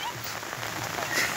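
Heavy rain pours at the flooded Ulhas river, a dense, steady hiss of drops striking surfaces close by, continuous throughout with no voices.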